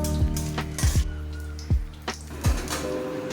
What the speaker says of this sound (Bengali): এবারে কড়াইতে তেল দেবো, তেল দিয়ে তেজপাতা, শুকনো লঙ্কা, গোটা জিরে, গোটা গরম মশলা ফোড়ন দেবো।